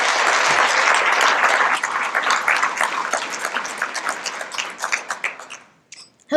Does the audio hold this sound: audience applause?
yes